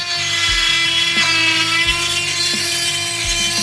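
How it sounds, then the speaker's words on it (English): A 7-inch grinder fitted with a new 40 grit disc grinds steel pieces flat for a custom Hi-Lift jack accessory, a loud steady whine with periodic dips and surges as the disc bites and lifts off the metal. "Just gonna grind them flat real quick. Put a brand new 40 grit on the 7-inch."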